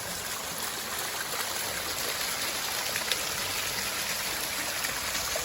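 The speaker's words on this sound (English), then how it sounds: "Look at this little waterfall running into it." Small waterfall running into a pool along a mountain trail, a steady, even rush of falling water close by with no pauses or voices.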